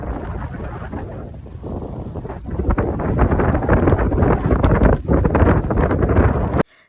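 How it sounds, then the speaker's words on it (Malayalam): Strong wind at Zandvoort beach in the Netherlands roars and buffets the microphone in a loud, continuous rush that swells midway, then cuts off abruptly at the end. "അവിടെ ഒടുക്കത്തെ കാറ്റ്."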